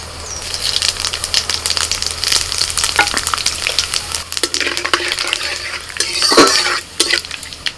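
Bay leaf and whole cumin sizzle in hot white oil in a wok, a loud, busy crackle for several seconds, with metal utensil clinks and stirring scrapes, and no talk.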